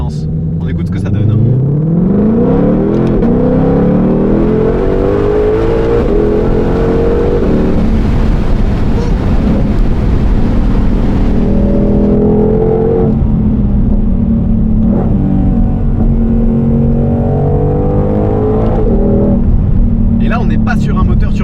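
Supercharged Ford Mustang Shelby GT500 engine revving up through several gears, loud and close with rising and falling pitch sweeps, people talking over parts of it.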